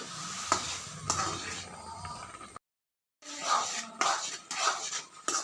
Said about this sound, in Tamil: தண்ணி கொதிச்சு வந்ததும் இந்த வறுத்து வச்ச மாவை தட்டி கிளறணும்